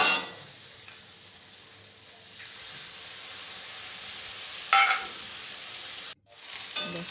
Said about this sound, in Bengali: ওই বাটি ধোয়া জলটা তরকারিটার মধ্যে দিয়ে ভালো করে নেড়ে নেব